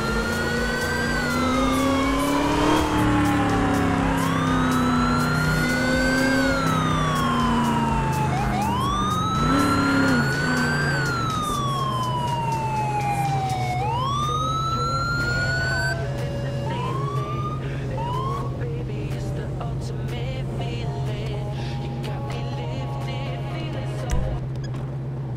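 A police car siren in GTA Roleplay, wailing and yelping in rising and falling sweeps, loud and close over a steady engine hum, then fading into quieter chirps and whoops near the end, with someone talking briefly.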